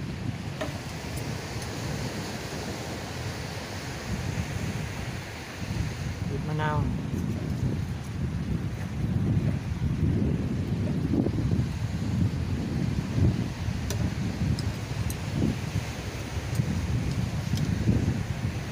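Seaside atmosphere at a waterfront seafood restaurant in Pak Phanang, Nakhon Si Thammarat, Thailand: steady wind rumble and soft wave wash continue throughout at moderate level, with a brief rising tone midway and occasional faint voices in the background.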